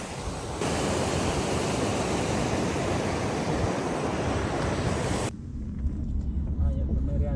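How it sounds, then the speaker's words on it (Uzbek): A stream rushes past close by in an outdoor nature spot, a loud steady roar of flowing water that cuts off abruptly near the end, leaving quieter rumbling background. "Mana bunaqa tabiat qo'ynida yoningizdan shunaqa suv oqib turadi"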